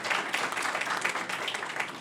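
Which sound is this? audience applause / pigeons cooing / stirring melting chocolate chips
audience applause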